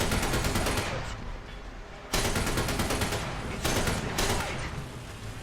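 Tank guns fire in the video game War Thunder, rapid automatic bursts rattling in several long loud volleys with short gaps between them.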